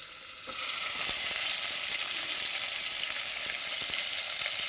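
Onion pieces frying in hot oil in a pan for bagara rice give a loud, dense, continuous sizzle that starts abruptly and holds steady at close range, with no voices.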